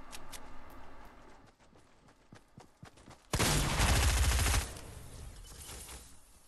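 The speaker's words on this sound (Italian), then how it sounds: "Sparate tutti me." Gunfire in the video game Fortnite: scattered sharp single shots, then a loud sustained burst of rapid fire lasting over a second, followed by softer background game noise.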